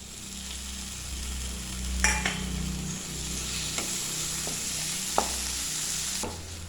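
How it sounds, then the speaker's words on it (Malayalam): Chopped tomato is stirred into a frying spice masala for cauliflower masala, with a steady sizzle in the pan broken by a few scraping clacks of the spoon, close and clear. "ഇപ്പോൾ തക്കാളി ചേർത്ത് കൊടുത്തിട്ട് നന്നായിട്ടൊന്ന് ഇളക്കി കൊടുക്കുക."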